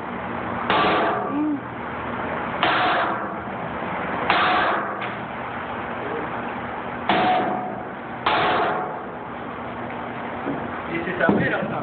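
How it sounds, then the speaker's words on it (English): Five or six sharp metallic strikes of a metal hammer land at irregular intervals against a tempered glass door, each a loud bright crack, with voices talking quietly in the background. "This is a metal hammer."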